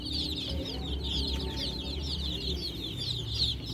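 Several backyard farm chickens, black and brown, cluck and chatter continuously at moderate volume, with a low rumble of background noise and no talking.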